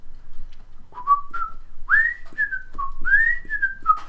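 A person whistles an eerie, wavering tune in a series of short sliding notes with pauses, imitating ghosts, close and alone.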